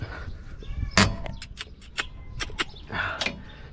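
A series of quick, crisp clicks of a torque wrench releasing while tightening a Nissan Sentra's front strut nut, irregular and close, over faint background noise.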